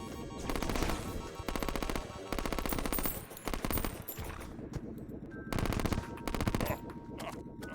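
Rapid-fire gun in Terraria shooting high-velocity ammo, dense loud bursts of automatic fire in several long volleys with short gaps, the last stretch quieter.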